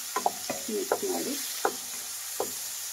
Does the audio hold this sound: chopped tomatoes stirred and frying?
yes